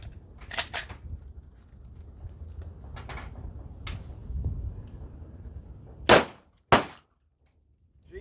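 Shots from a Glock 17 Gen 5 9mm pistol at a shooting range ring out as a few sharp, loud cracks, widely spaced, two close together near the end, with quieter handling clatter between.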